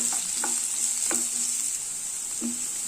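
Finely chopped onions sauté in hot oil for a vegetable samosa filling, a steady bright sizzle with a few soft scrapes of a stirring spoon against the pan, close and alone without talk.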